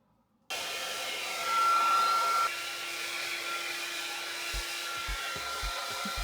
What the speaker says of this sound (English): now I'm going to blow dry my hair